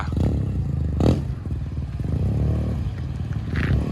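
A Yamaha TMAX 530 scooter (2016, Ironmax) launching hard with rear wheel spin, giving a close, loud, steady engine roar with clattering bursts.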